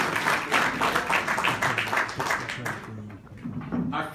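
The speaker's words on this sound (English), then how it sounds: "Let's give them a round of applause." An audience applauds at an evening event honoring volunteers, a dense steady wash of many hands clapping that carries on for several seconds before thinning slightly toward the end, with a few voices faintly mixed in.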